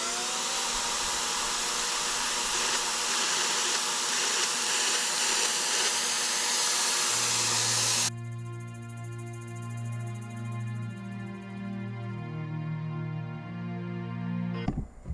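Airless-style paint sprayer with an on-board air compressor spraying Zinsser primer on a shed: a loud steady hissing whine that shifts partway into a lower humming motor tone with a buzzy pitch, continuous and close, no talking.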